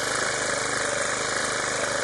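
A Honda rotavator with an automatic clutch idles in a garden bed, its small engine holding a steady, even, close-up putter for the whole stretch with no talking.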